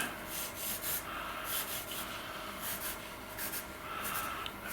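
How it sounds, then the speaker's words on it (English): An eraser rubbing out pencil lines on paper, quick rhythmic scrubbing strokes in bursts, close and fairly soft, with no one talking. "what I'm going to do is rub out the ones that go through here"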